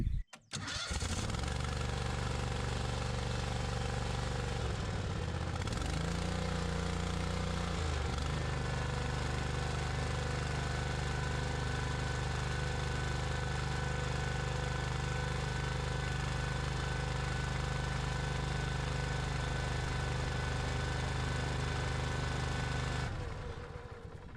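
A Husqvarna iZ5223 zero-turn mower engine starts up and runs steadily at close range, a loud continuous drone with a brief dip in pitch a few seconds in before settling and cutting off at the end.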